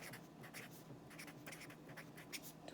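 Pen scratching across a paper debt tracker in short strokes and bursts, quiet and close, with no talking.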